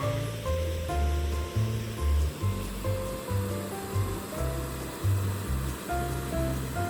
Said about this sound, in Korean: 파도는 계속해서 부서지지만 바다는 무너지지 않습니다.